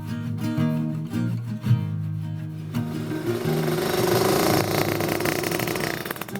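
A 1999 Vespa PX200E scooter, a small old two-stroke engine, idling with a steady low putter that grows rougher and busier partway through, heard close with no talk.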